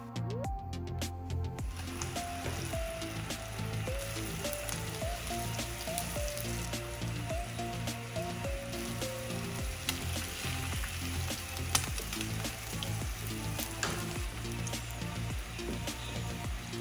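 A smoked salmon quesadilla frying in oil in a pan gives a steady, close crackling sizzle that runs unbroken the whole time, with a few faint clicks and no voices.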